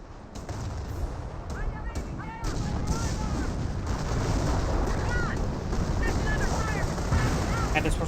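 Calliope rocket barrage in Company of Heroes, a rapid string of launches and blasts over rumbling battle noise, growing louder and denser partway through and staying heavy to the end.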